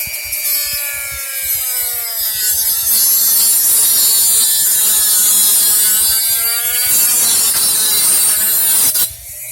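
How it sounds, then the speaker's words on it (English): A Dremel rotary tool cuts through the plastic of a Nerf Longshot blaster, its high whine droning loudly and steadily for about nine seconds, pitch rising and falling as the cut bites, then stopping abruptly near the end. "grab my Dremel, and then we are going to be cutting away at it"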